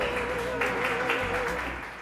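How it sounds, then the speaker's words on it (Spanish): An audience at a live literary talk show applauds, a thick, even wash of clapping that carries on steadily before easing slightly at the end. "Aplaudimos para ellos, ¿no? Un aplauso para ellos, para todo este público que hay."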